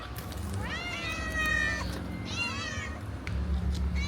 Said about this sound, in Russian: Такие прям классные кошки